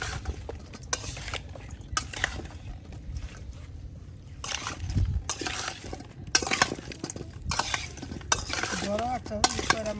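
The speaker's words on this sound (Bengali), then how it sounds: "সব একসাথে দিয়ে একদম সুন্দর করে কিন্তু মিক্সড করে নেওয়া হবে এটা প্রথমে।" Spice paste, salt and turmeric being stirred into hot oil in a pan for a pumpkin and chicken dish. Repeated scraping strokes sound close up over a low sizzle.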